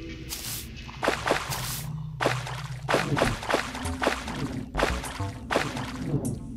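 Water pours and splashes through a flooded underworld cavern in the video game Terraria, a busy stream of repeated splashy bursts and trickles over a steady low rumble.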